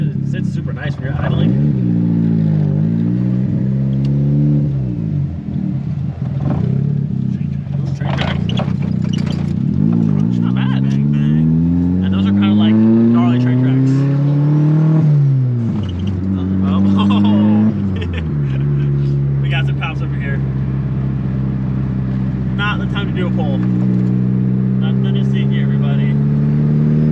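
A turbocharged 1.8T Volkswagen Golf Cabrio engine drones and revs repeatedly, pitch climbing and dropping with the throttle, while people talk over it throughout.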